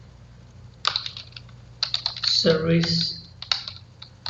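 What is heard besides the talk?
typing code on a computer keyboard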